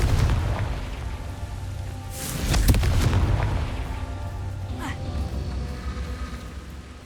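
A booming blast from the Confringo spell in Hogwarts Legacy, a heavy low rumble that swells and rolls along under continuous game ambience, with a sharper burst near the middle and a spoken voice mixed in.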